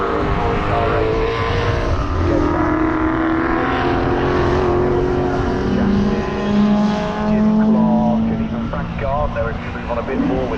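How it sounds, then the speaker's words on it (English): Pre-1966 touring race cars, including a big American muscle car, lapping Donington Park in qualifying, engines roaring and shifting pitch as they pass, loud and close under steady commentary. "Gardner, if you move on a bit more with his big American muscle car that he's driving"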